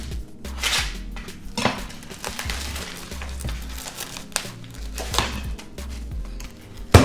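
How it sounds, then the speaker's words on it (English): Plastic packaging crinkles and tears as an American wagyu beef chuck roast is pulled from its wrapper, with scattered rustles, thumps and handling noises close by and no voices. "Let's get this baby out of the package."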